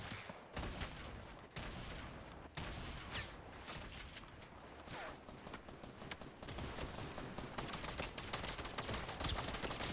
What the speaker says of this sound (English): I guess that's what you get with a light machine gun.